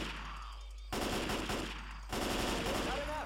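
Bursts of rapid gunfire in two loud volleys with faint background music and effects, from the video game Left 4 Dead 2.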